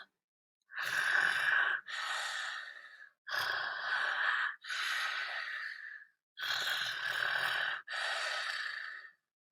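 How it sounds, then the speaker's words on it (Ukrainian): Slow, heavy breaths repeat in a steady rhythm, six long airy inhales and exhales with short pauses between, close and clear with no talking. "він почув іще один звук дивний, ритмічний звук дихання"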